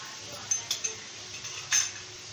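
Chicken with ginger garlic paste is sautéed in a pan, with light metal spoon clinks and scrapes against the pan and a faint sizzle underneath.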